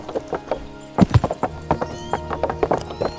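Horse hooves clop in a steady, uneven rhythm as the horse moves in the medieval game Kingdom Come: Deliverance, heard close and moderately loud with a brief neigh-like snort, no talk over it.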